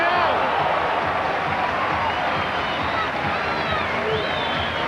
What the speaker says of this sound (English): The crowd loving it.